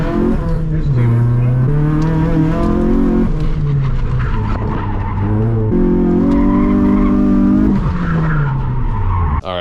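An old Nissan Sentra fitted with race car suspension is driven hard, its tires squealing and skidding in long, wavering tonal wails over a steady engine roar that stays loud and close throughout.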